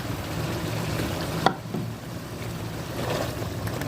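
Chickpea and potato paste being stirred and mixed in a hot pan for Lahori cholay, a steady low sizzling scrape with one brief sharp knock of the spoon midway, no voices.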